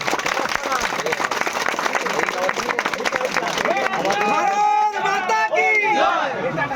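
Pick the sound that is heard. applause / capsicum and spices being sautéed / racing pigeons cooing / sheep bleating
applause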